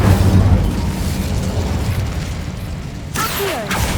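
An Incendio fire spell is cast in the video game Hogwarts Legacy: a loud, close whooshing roar of flame with a deep boom at the start, followed by a fresh burst near the end.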